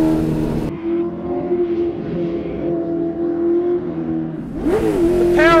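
A vintage race car on a track revs hard under acceleration, its engine note holding a loud steady howl before it climbs sharply as the tyres light up, close and with no voices.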